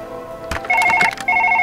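A telephone in the operating room of the game Surgeon Simulator 2013 rings in two bursts of rapid electronic trilling, loud and close, with a brief clatter of other game noise just before the first ring.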